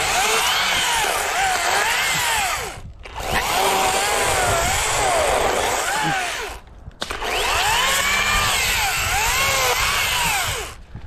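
A chainsaw cuts into a pine tree in three long, loud bursts of steady high-revving whine, separated by two brief pauses.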